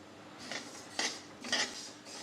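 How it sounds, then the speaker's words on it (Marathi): Sesame seeds dry-roasting in a hot kadhai, stirred with a metal spoon that scrapes the pan in four short, rhythmic strokes over a quiet background. "आता तीळ भाजून घेते"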